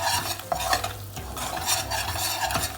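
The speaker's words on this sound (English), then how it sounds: "we'll add about a big spoon of Kashmiri chili powder. Give it a quick mix." A big spoon of Kashmiri chili powder is stirred into dal makhani in a pan taken off the flame, giving close spoon scrapes and clinks over a soft, fading sizzle.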